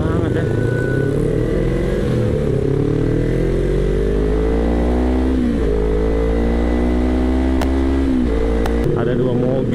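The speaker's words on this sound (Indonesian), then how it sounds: "Suara 2 silinder banget" A two-cylinder Kawasaki Ninja 250 motorcycle engine revs on a city street, loud and close with steady droning throttle swells, while voices talk over it.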